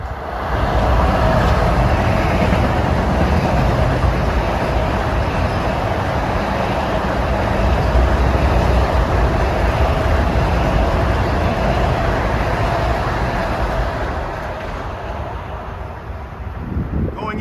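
Long Island Rail Road train 1256, New York to Hicksville, passing eastbound on track 3 of a triple-track main line in Queens: a steady, loud roar of rolling wheels and rushing air that continues unbroken and fades slightly near the end.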